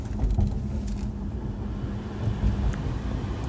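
Air conditioning blows inside a Range Rover Evoque, a steady low rushing fan hum filling the cabin without speech.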